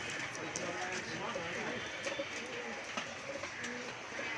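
Pigeons coo at an outdoor pigeon market in Gollamari, with soft, repeated cooing in a busy ambient mix and voices talking nearby.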